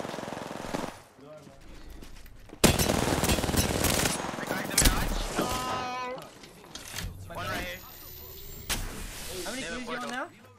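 Gunfire in the Apex Legends video game, loud rapid automatic bursts and single cracks in close succession, with voices talking over parts of it.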